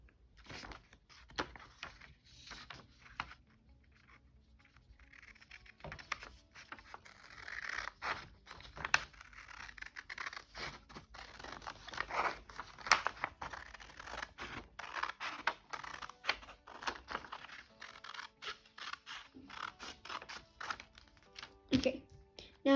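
Scissors snipping and paper rustling while cutting and handling paper for a foldable 3D paper house model, close and busy with irregular cuts, crinkles and scrapes throughout.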